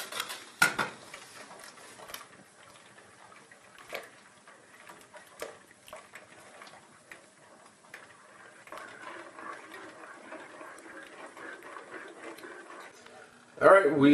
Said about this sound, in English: we're going to stir in very quickly our yolk and sugar mixture here